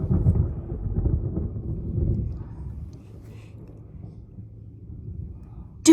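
Deep thunder from a storm near Frisco, Texas rumbles low and heavy, rolling in waves before fading into a quieter tail, with a sharp knock at the very end.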